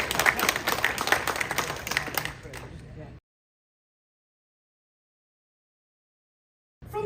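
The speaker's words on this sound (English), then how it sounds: "You should applaud for that." Audience applause breaks out during a keynote at a play-studies conference, about three seconds of brisk clapping that cuts off abruptly into silence before a short burst returns at the end.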